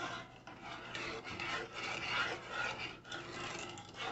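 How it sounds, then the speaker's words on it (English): Honey and sugar sauce is stirred in a pot on an electric stove at medium heat, making continuous close scraping and rasping sounds in uneven strokes. "we're going to keep stirring it to mix all the sugar and the honey together."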